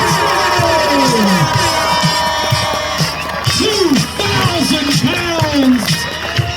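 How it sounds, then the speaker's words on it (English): A large crowd at the GB national skateboarding championships cheers, whoops and screams loudly and continuously for the first-place winner, with children shouting in the mix and an announcer's voice carrying over the noise. "One more time, let me hear you scream for Lola Tamblyn!"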